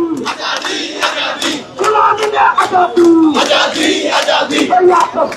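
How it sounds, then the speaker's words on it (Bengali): A large crowd of protesting students at Shahbag, Dhaka, chants slogans in loud rhythmic unison, voices rising and falling in repeated phrases with no pause, close and dense throughout. "অর্থাৎ তারা এই মুহূর্তে বিভিন্ন স্লোগান কিন্তু দিচ্ছেন।"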